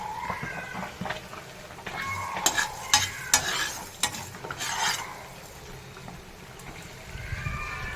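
Fish pickle with whole garam masala, cumin and fenugreek powders being stirred in a frying pan, with a soft continuous sizzle under scraping strokes and several sharp clinks of a spoon against the pan.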